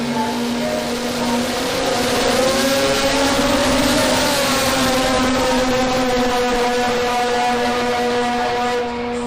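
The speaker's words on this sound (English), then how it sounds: "Listen to those revs." A rotary-engined drag radial race car at an Australian drag strip revs hard and holds a loud, steady high-pitched engine note, rising slightly then sustained for several seconds, with no talk over it.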